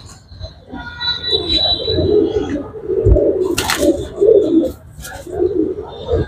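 Pigeons in Lucknow coo repeatedly in low, rolling phrases close by, with a brief high whistle and a sharp clatter partway through.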